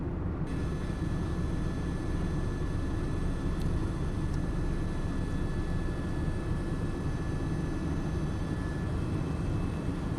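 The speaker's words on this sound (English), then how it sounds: "Multiple agencies were mobilized, with helicopters tracking from above." A steady, loud rotor-and-engine drone from news and police helicopters hovering overhead during a police chase, continuous and unbroken throughout with no voices, only a few faint high tonal whines riding on top.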